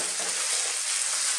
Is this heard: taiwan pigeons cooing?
no